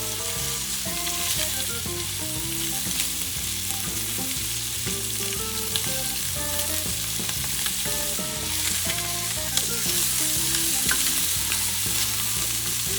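Scallops sear in a hot pan for a salad, giving a steady, continuous sizzle and frying crackle with no speech. Music-like tonal bands run underneath throughout.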